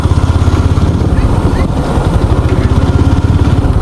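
A motorcycle is ridden out onto a bridge, its engine droning loud and steady with a rapid pulsing throb and wind rumble, close to the microphone throughout.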